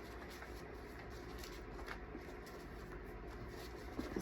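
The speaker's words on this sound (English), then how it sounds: "I'm dropping all the cards already." Tarot cards are shuffled close by in a soft, continuous riffling rustle, with a small clatter near the end as cards drop.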